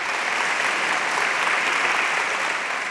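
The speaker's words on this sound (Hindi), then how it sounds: "आएँ और जोरदार तालियों से आप सबका स्वागत।" Audience at a dance academy performance applauds, the steady, dense clapping holding at even loudness throughout without pause.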